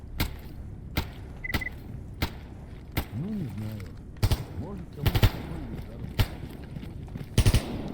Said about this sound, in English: now I'm hearing shooting